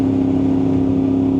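An Aprilia RS660 motorcycle fitted with a loud aftermarket exhaust drones steadily at constant engine speed during a ride, a continuous close tone with no talking.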